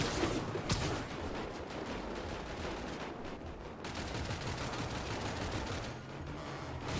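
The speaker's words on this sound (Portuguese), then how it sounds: "Ela tá atirando em mim, cara." Sustained gunfire from in-game shooters in GTA 5 aimed at the player, a dense crackling barrage of rapid shots that continues loud and steady for the whole stretch with only brief dips.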